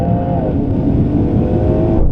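A BMW M3 Touring and an Audi RS6 launch side by side in a drag race, loud engines roaring and revving hard together with rising harmonic tones, continuous and close throughout, with no talking.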